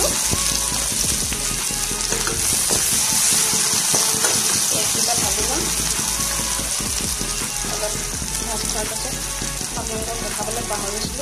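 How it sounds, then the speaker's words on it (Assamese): Halved medium onions go into hot oil in a pan just used for frying potatoes, making a loud, dense, continuous sizzle with crackling throughout, heard close up. "তেলখিনি গৰম হৈ আছে যিহেতু আলু ফ্ৰাই কৰা কৈছিলোঁ এতিয়া মিডিয়াম চাইজত দি দুটা পিঁয়াজ কাটি দিছোঁ আৰু পিঁয়াজ গোটা দি দিছোঁ"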